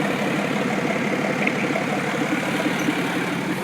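A small 4.3-liter V6 engine in a truck idles steadily with the manifold open, producing a continuous low rumbling drone heard up close without any talk.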